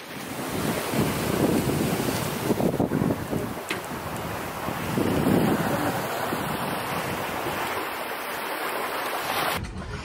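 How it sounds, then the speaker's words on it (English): Strong wind and big breaking waves roll past a trimaran sailing upwind at sea, a steady loud rush of surf and wind buffeting the microphone, with swells surging louder every few seconds. "We are sailing against the wind and the waves are big."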